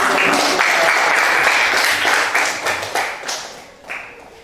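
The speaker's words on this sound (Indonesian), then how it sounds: "beri aplaus semuanya" Audience applause in a classroom or training session, a dense burst of clapping that thins into scattered claps toward the end.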